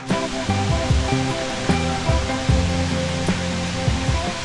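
Powerscourt waterfall in Wicklow roars in a steady, loud, broadband rush of falling water, close and continuous, with a faint repeating tonal pattern running underneath.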